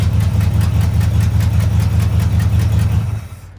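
A Chevy engine idles close and loud in a steady, rhythmic rumble after a fuel pump repair, then fades away at the very end.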